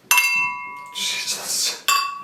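Drinking glasses meet in a toast at a family dinner table: a bright ringing clink, then a stretch of voices, then a second clink that rings out at the end.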